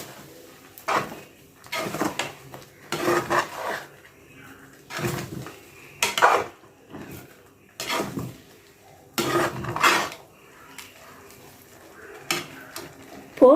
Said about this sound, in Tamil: இப்போ நல்லா கிளறுங்க